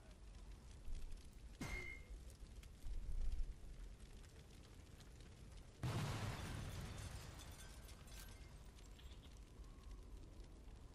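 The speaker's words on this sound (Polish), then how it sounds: "Wybuchłem samochód." A car blows up in the video game Sniper Elite 4: a sharp pop early on, then a single loud blast midway that trails into a long, fading rumble and crackle.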